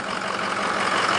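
Engine of a 2005 Ford F250 Lariat idling with the oil fill cap resting loose on the filler tube, a steady, close, broadband mechanical rumble and hiss with no voices.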